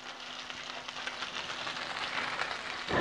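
Two salmon pieces sizzle skin side down in a hot pan, a soft, steady crackling hiss like light rain that builds slightly toward the end.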